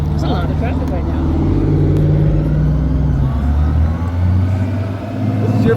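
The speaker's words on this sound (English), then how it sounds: "There's a lot of traffic right now." A 2008 Honda Goldwing motorcycle rides through traffic with a steady, loud low engine drone and wind rumble, the pitch shifting slightly as it changes speed, while people talk over it.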